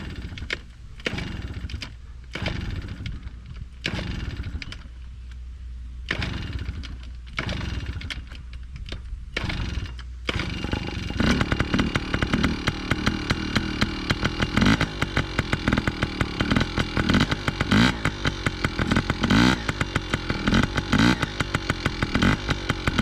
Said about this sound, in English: this is also Chevy's very first time riding a petrol bike